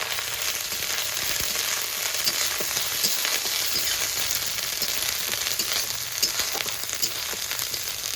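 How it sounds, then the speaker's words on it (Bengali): Grated coconut sizzles steadily in hot oil in a pan, a dense continuous frying hiss with faint scrapes of stirring throughout, close and fairly loud with no voices. "এবার কুড়িয়ে রাখা নারকেলটা তেলের মধ্যে দিয়ে দেবো নারকেল দিয়ে দিয়েছি একটু নেড়ে চেড়ে নেবো"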